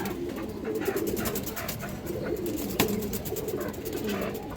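A female pigeon of a breed sold as rapankhi makes low, repeated cooing sounds close by in a cage, mixed with soft background bird noise and a single sharp knock partway through.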